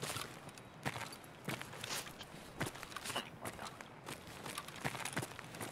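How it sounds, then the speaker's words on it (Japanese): Footsteps in the video game Escape from Tarkov, on the Interchange map, thud in an irregular stream of soft, close steps over a steady background hiss, with no voices. "足音聞こえるの逆に怖いんだけど。"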